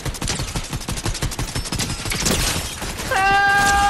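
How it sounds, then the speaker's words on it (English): Rapid Fortnite gunfire rattles in dense bursts from several weapons during a jungle fight, loud and continuous, with a ringing metallic tone closing it out. "I can't even see where people are shooting from"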